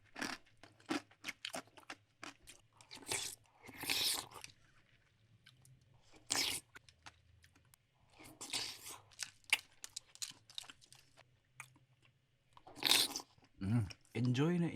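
Close chewing and crunching of halo-halo topped with ube ice cream, arriving in irregular bursts of bites with quiet pauses between them. A voice talks in places.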